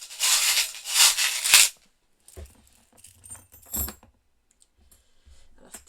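Small metal charms jangle loudly and close in a bright rattling burst lasting under two seconds, followed by quieter scattered clicks and light handling taps.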